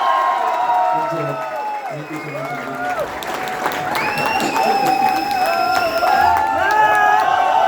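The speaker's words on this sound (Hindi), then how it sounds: "एक बार और जोरदार तालियां" A hotel ballroom crowd at a sales achievers' recognition event gives loud, sustained applause mixed with cheers and shouts, while someone speaks over it.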